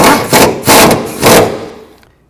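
Engine mount bolts being snugged down by hand on a 2009-17 Chevy Traverse, with three short bursts of ratcheting or wrench clatter, close and fairly loud, trailing off into quiet.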